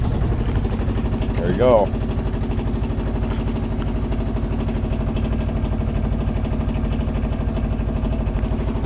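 Boat engine running at a steady idle with a newly installed exhaust, a continuous low throbbing rumble close by, with a brief voice speaking over it near the start.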